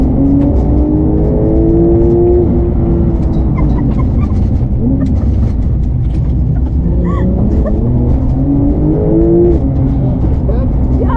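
A Porsche 911 accelerating hard onto a road course at the Goodyear facility, its engine note rising and falling steadily throughout, with people talking over it inside the car.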